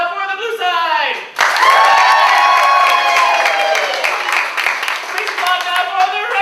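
Audience at a Comedy Sportz improv show applauds and cheers for the blue team, a loud sustained swell of clapping with whoops and shouted voices, after a brief lead-in of vocal noise.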